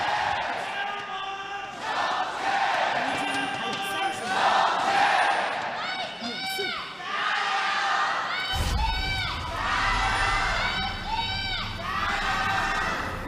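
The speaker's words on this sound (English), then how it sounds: "Still some very big volume from the Vici fans in the crowd" Vici Gaming fans in an esports arena crowd cheer and shout in loud, sustained waves. The cheers rise in bursts with sharp peaks and run under ongoing commentary throughout.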